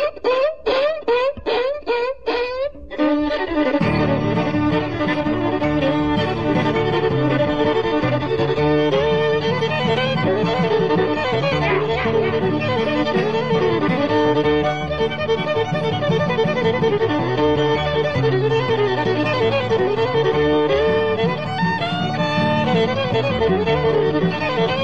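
A fiddle imitates a yelping hound dog with a quick run of sliding, whining squeals over the first few seconds, then settles into loud, continuous bluegrass fiddle playing backed by guitar.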